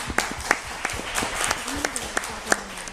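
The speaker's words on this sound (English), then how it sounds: "That was a mighty clap." Audience at an anime convention panel clapping for the guest handler, a burst of scattered, uneven claps from a nearby crowd with some voices mixed in, lasting a few seconds.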